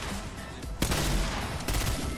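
Rapid gunfire crackles in the video game Fortnite, with dense bursts and sharper shots around the middle and near the end, loud and continuous, with no talking over it.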